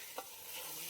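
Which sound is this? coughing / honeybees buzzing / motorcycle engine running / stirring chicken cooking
stirring chicken cooking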